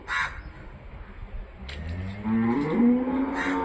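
A calf lets out a single drawn-out moo near the end, preceded by a couple of sharp crow caws and quiet farmyard background.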